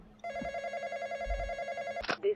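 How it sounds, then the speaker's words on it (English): Telephone ringing in the Roblox horror game The Intruder: a steady electronic ring tone holding for nearly two seconds at moderate level, cutting off abruptly with a short burst of other game noise. "Answer the phone."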